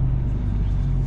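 A car on a road rolls past close by, giving a loud, steady low engine rumble that fills the whole short moment with no voices over it.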